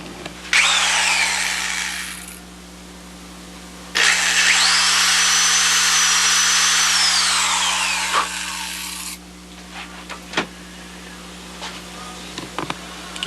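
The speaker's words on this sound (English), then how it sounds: "So just drill a hole in this ply." A power drill bores a hole through plywood in a model-building workshop, with two sustained whining bursts of drilling, the motor pitch sagging as the bit bites, followed by a few light taps and clatters.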